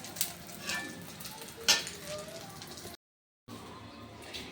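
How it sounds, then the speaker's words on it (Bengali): An omelette of egg sizzles in oil in a pan, a quiet steady frying hiss with a couple of soft utensil clicks, then a short cut to silence before the sizzle resumes. "এটা ভালোভাবে এবার দুই পিঠ ভালোভাবে ভেজে নেব।"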